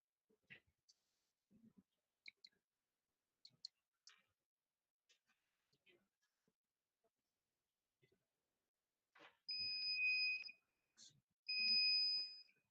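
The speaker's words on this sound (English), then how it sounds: "सिर्फ LED को निकाल के हमने buzzer लगा दिया, it's beeping, right?" An electronic buzzer wired to pin 11 of a microcontroller in place of an LED, driven by uploaded code, gives two steady high-pitched beeps about a second each, close and clear after scattered faint clicks and handling noises.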